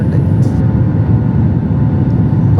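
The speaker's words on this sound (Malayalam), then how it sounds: "അങ്ങനെ മസ്കറ്റിൽ നിന്ന് കൊച്ചിയിലേക്ക് പോകാനായിട്ട് നമ്മുടെ ഫ്ലൈറ്റ് ഇതാ പറന്നുയർന്നു" A passenger jet takes off from Muscat bound for Kochi, heard from inside the cabin as a loud, steady low engine roar and rumble with no letup.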